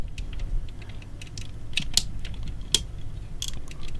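A plastic panel on an MP-36 Masterpiece Megatron transforming toy being folded up, giving faint scattered clicks and small ratcheting snaps with a couple of sharper clacks, no talking.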